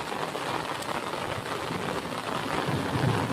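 Steady rain falls in a dense, even hiss of drops hitting surfaces outdoors, continuous and close, with no one speaking.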